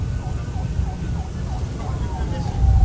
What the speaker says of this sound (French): Le cortège présidentiel avance au rythme des sirènes,